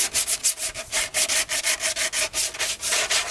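Sanding the edges of classic Honda roadracer bodywork makes a loud, close scratching rasp in quick, even back-and-forth strokes, about six per second, with no voices.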